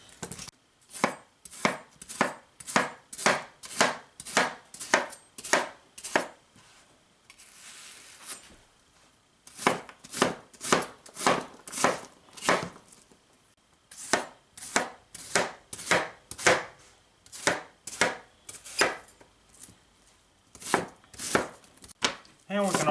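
A Winco Acero KFP-85 half-bolster chef knife chops an onion on a cutting board in quick rhythmic runs of crisp knocks, close and clear, broken by short pauses between bursts.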